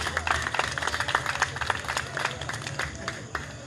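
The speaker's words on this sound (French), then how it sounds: "Est-ce qu'on peut applaudir encore, s'il vous plaît?" Loud, dense applause from an audience at an outdoor anti-COVID-19 theatre forum show in the Mimboman district of Yaoundé, with many hands clapping and crowd murmur filling the background throughout.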